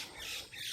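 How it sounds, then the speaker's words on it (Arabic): A brief, noisy squawking from small birds in a forest in Kuala Lumpur, Malaysia, harsh and close, with no talk. "اهي دي العصافير اللي عاملة الدوشة دي كلها"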